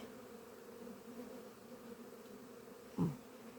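Honey bees hum in a steady, low drone throughout during a hive inspection, fairly quiet, with a brief louder buzz as one passes close near the end.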